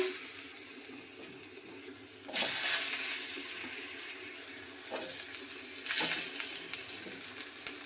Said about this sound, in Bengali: এখন মাছ ভাজা তেলে প্রথমে আলুগুলো ভেজে নেব।